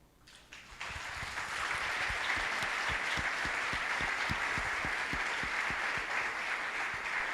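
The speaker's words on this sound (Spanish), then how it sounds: "Renovamos el aplauso para nuestras visitas." Audience at a talk in Inriville breaks into applause that builds within the first second into steady, moderately distant clapping with a few distinct rhythmic claps standing out.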